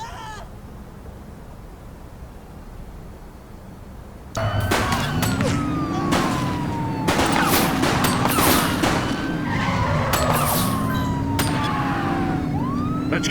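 Gunfire crackles in sharp, spaced bursts during a police chase in the video game The Precinct, mixed with a wailing siren and car engine noise, loud and close.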